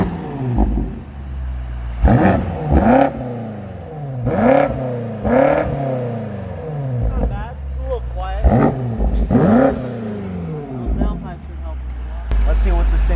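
A tuned BMW X5M Competition with downpipes revs hard in a series of sharp, rising and falling bursts, loud and close, with idle pauses in between.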